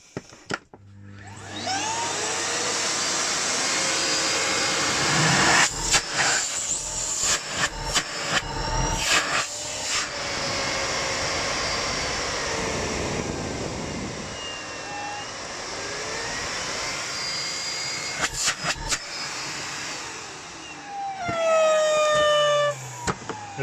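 Miele Complete C3 Extreme PowerLine vacuum cleaner running with a poorly sealing filter, giving a loud steady motor roar with a high whine that rises and falls, interrupted by several bumps and clicks.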